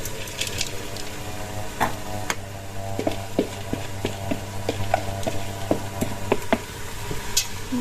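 Soaked lentils being stirred in a cooking pot, with a steady low sizzle under repeated light scraping and knocking of the spoon against the pot, close and continuous.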